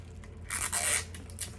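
Packing tape rips off the roll in a short, sharp tearing burst, then a few smaller crackles follow as it is pressed down over wrapping around breakable goods for shipping.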